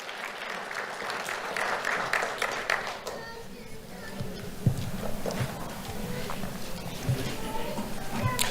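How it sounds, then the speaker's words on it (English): Applause from an awards-event audience for a young honoree, a steady mass of clapping that rises, thins for a moment, then swells again across the whole stretch, with scattered louder claps and some voices underneath. "Let's have a round of applause for Dwayne Thompson."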